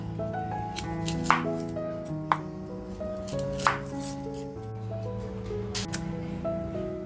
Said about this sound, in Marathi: अगोदर आपण कांदा कापून घेऊया